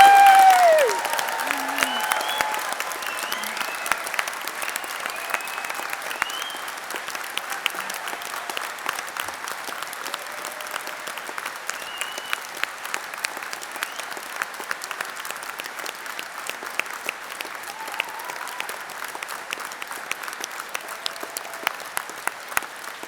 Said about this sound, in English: let's start them off with a fantastic round of applause.